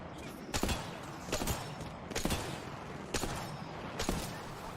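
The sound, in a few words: gunshots from Apex Legends video game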